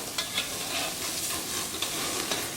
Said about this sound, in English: We're going to go ahead and give them a flip.